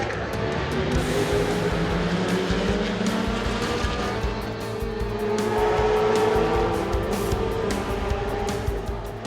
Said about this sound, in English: we're racing at Imola, and Tincknell's got an absolute belter